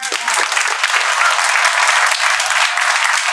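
Audience applause for a performer's young daughter at a live psychic's variety show, steady dense clapping from a nearby crowd lasting a few seconds without pause.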